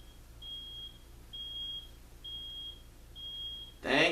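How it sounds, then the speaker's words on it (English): A reversing vehicle's backup alarm, four evenly spaced high-pitched beeps, faint and distant beneath low background hum, ending with a sudden loud close noise. "Thanks for backing up and making all those beep"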